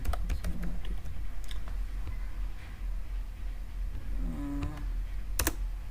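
Text is typed into a web form on a computer keyboard: quiet, close, irregular clicks and taps in short bursts with no talking.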